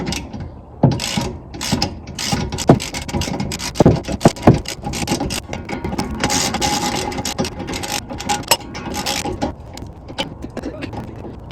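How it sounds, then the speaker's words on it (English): Ratcheting wrench clicks and metallic rattles keep coming as small rear brake bolts are snugged down on a 2001 Volkswagen Jetta MK4, close and fairly loud, with a little talk mixed in. "Now I've got the little bolts in. I just gotta tighten them down."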